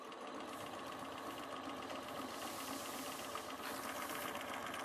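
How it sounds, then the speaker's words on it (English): A sewing machine stitching down a quilt corner, a continuous fast mechanical whir and rattle, steady and close, with no talking. "I'm going to sew a little bit, and then I'm going to show you something"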